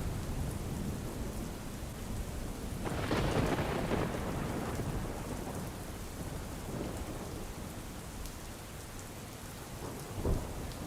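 Heavy monsoon rain pours steadily near Palanpur in north Gujarat, with a rolling thunder rumble swelling early on and a short loud burst near the end.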